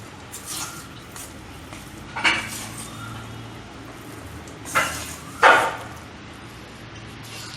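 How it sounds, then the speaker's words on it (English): Spoon or whisk clinking against a bowl while Oreo cake batter is mixed, a few sharp scraping knocks spaced apart over quiet background. "Mix this all well."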